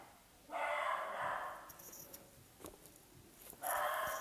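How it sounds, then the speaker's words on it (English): A dog barks at a distance in short bursts, breaking in over a quiet indoor background with a few faint clicks between the barks. "Sorry about the dog."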